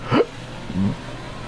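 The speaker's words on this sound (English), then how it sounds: "And me having slight hiccups." A person hiccups twice, about half a second apart, each a short, close, moderately loud gulping catch with no talking around it, while an F1 2018 Belgian Grand Prix race plays quietly in the background.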